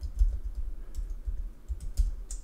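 Someone types steadily on a computer keyboard while working in TradingView charting software, with close, dry clicks in a quick, uneven rhythm and no talking.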